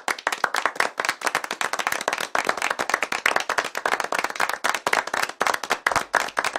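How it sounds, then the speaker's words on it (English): Clapping plays as a sound effect, a rapid irregular patter of sharp hand claps with some crowd-like density, fairly close and continuous throughout. "Hey, Tony, how'd you turn this clapping off?"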